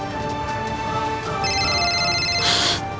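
A telephone rings at moderate level amid a tense domestic drama scene, its electronic ringtone rising toward the end over a bed of background music.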